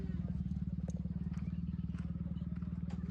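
A Benelli TNT sport motorcycle engine idles with a steady, rapid low throb, the rhythmic putter continuing at moderate distance throughout.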